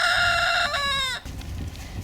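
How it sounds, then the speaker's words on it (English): A rooster crows loudly and close by, one long drawn-out call that bends downward at the end before fading into quiet background noise. "You're getting a greeting from a couple of our roosters."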